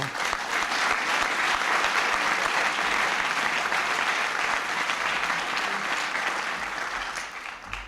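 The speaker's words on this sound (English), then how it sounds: "I don't mind being interrupted for applause" Sustained audience applause during a 1998 presidential speech at a childcare and after-school care event, a dense, steady clapping that fills the whole stretch and tapers slightly near the end.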